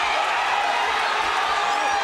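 A crowd of supporters cheers at a charity boxing match between Justin Trudeau and Senator Patrick Brazeau, a steady roar of voices throughout with commentary audible over it.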